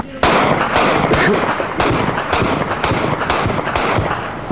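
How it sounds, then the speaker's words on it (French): A 20 mm cannon fires in combat near a village, a rapid, loud string of sharp bangs in uneven bursts with a constant rumble between shots. "le canon de 20, ça fait pas de dommages collatéraux"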